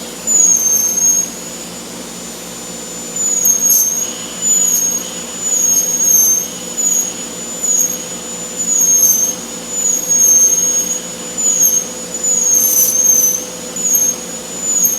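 A high-speed piercing bit cuts through a woodturning, giving a loud, continuous high-pitched whine over a steady motor drone, rising and falling in pulses as each hole is pierced.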